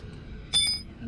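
A single bright metallic tap rings out briefly on a tightened bolt of a Kawasaki Ninja ZX-14 rear brake, close and alone against quiet background.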